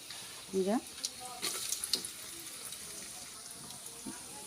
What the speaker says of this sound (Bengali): এগুলো আগে একটু ভেজে নেব এবার কিশমিশটা দিয়ে দেবো